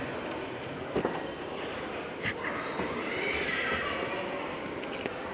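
A horse neighs near the start against steady rushing background noise, then more whinnies rise faintly in the middle with occasional hoof clops.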